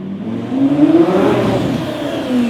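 A Lamborghini engine revs up, rising and falling in pitch with a throaty roar, loud and close, then settles into a steady idle-like drone.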